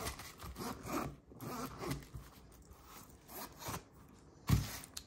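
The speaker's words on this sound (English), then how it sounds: "And it zips quite nicely." A zipper on a Kate Spade leopard-print keychain cardholder is pulled along in several short rasping strokes, close and fairly quiet, with a sharper click near the end.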